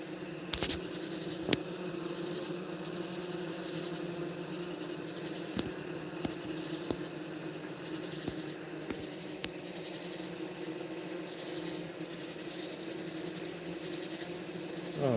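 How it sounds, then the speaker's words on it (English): Bees fanning hot air out of a hive, a steady layered drone with several sustained tones running the whole length, joined by a few sharp clicks and taps, close and unbroken. "Can you hear these bees?"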